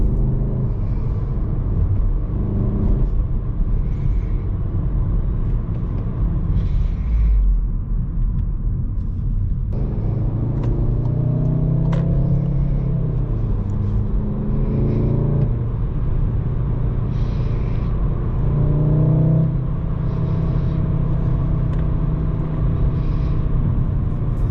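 Stock exhaust of a Volkswagen MK7 Golf R while driving, a low, fairly quiet droning rumble with engine pitch rising and falling through gear changes, heard steadily from inside the car.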